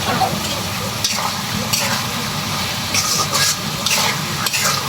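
Ground red chili, turmeric and coriander stirred and fried in a pan, a steady close sizzle broken by repeated scraping strokes of a spatula at irregular intervals.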